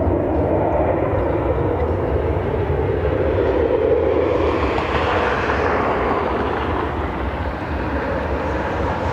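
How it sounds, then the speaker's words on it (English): A Delta Connection Embraer E175 jet at an airport, a loud, continuous engine roar that holds steady and then slowly shifts in pitch, with no speech. "Delta connection on their way to Boston. E175."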